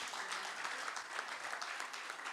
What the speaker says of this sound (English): let's clap for him again